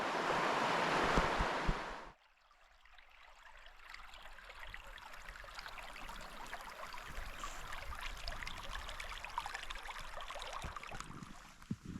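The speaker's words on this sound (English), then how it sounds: "So I'm just getting some water there to filter for my dinner and my coffee later" Water being scooped from a stream on the Pennine moors near High Force and Low Force in winter for filtering, a loud close splash and rush for about two seconds, then steady flowing water and wind noise continuing alone.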